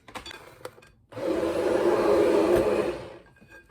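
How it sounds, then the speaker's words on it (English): An immersion blender whirs through homemade mustard in one loud, close, steady burst of about two seconds. It starts abruptly after light handling noises and then winds down, with no one speaking. "let's try an immersion blender"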